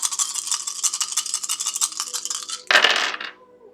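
Dice roll and clatter in a rapid series of bright, rattling clicks, ending in a louder scattering burst as they settle, close and distinct with no talk.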